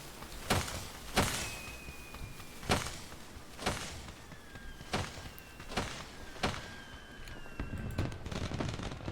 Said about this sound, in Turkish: Ben buradayım bir havai fişek patlatın.